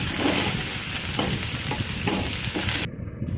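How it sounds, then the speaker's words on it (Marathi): Tomato and coriander sauté with ginger in a hot pan for a soybean bhaji, giving a steady dense sizzle broken by a few scraping stirs before it cuts off abruptly near the end. "नंतर टमाटा आणि कोथिंबीर टाकून घ्यायची. छान भाजून घ्यायचं."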